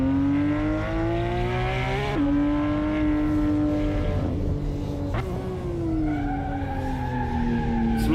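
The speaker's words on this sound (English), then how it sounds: "Losing traction like hell, sliding all over the place." Racing car in Assetto Corsa sliding as it loses traction: a loud, sustained engine whine shifts pitch with gear changes while tires squeal and skid continuously, close and without talk.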